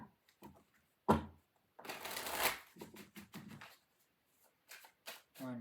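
Close, crisp riffling of tarot cards shuffled in quick bursts, with a longer flurry in the middle and soft voice fragments between.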